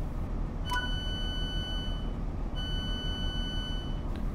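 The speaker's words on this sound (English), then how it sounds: "You get a little beep there." Train door beeps in Train Sim World 3 on the London Paddington to Slough line: two long steady electronic tones with a short gap between them over a constant low rumble of train noise.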